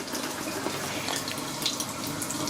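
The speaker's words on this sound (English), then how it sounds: "Oops, that was too much water." Water runs from a tap at a bathroom sink while Hendrix Classics shave soap is bowl-lathered, a steady close hiss of flowing water with no talking.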